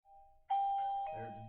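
An ieGeek video doorbell chime rings out through a phone speaker, a clear sustained two-tone ding-dong that starts after a faint lead-in and stays loud to the end.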